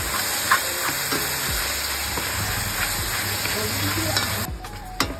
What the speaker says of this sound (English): saute the onions. Next, add in the mushrooms